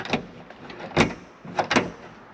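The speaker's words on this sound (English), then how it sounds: "Let's see what happens when we press the door lock." A car's door lock is pressed, giving a few sharp mechanical clicks and thumps, one on its own and then a quick pair, close and fairly loud with quiet between.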